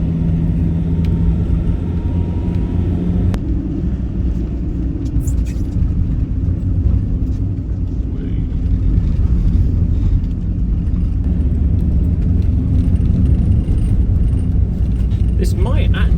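A car drives through a winter snowstorm on a remote road toward the Norwegian-Russian border. Inside the car, a steady, close, deep road-and-engine rumble runs continuously without a break.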